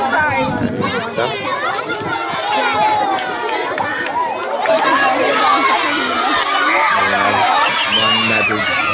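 A crowd cheers and chatters along the finish of a race, a dense roar of many voices with shouts and a commentator speaking over it.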